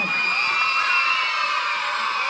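Crowd at a Gandhi Jayanti school celebration cheering and shouting, with children's whoops and yells in a steady loud roar that fills the whole stretch.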